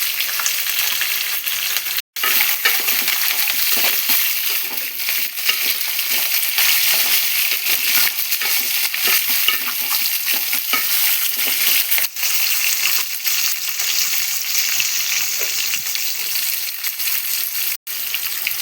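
Green chilies, curry leaves and onions fry in hot oil in a pan, a loud continuous sizzle close up, with occasional stirring clinks and no one speaking.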